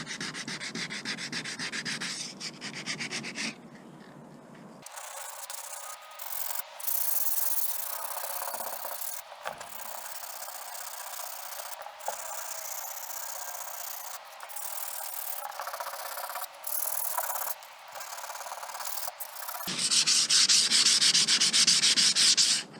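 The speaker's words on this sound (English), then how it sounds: "Just sanding by hand, I'm so like, oh my god, can't believe I gotta sand by hand." Someone hand-sands the hull of a Hobie Cat 16 catamaran during a rebuild, a steady rhythmic scraping of sandpaper in repeated strokes with brief pauses, close and fairly loud.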